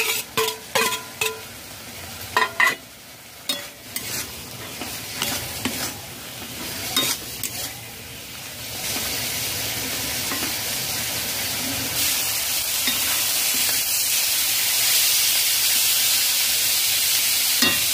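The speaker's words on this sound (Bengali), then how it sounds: "মাশরুম ভাজা দিয়ে দেব।" Fried mushrooms go into a spiced pan for a spinach and mushroom curry. Some early stirring clinks give way to a loud, steady, continuous sizzle that fills the rest of the time, with no voices.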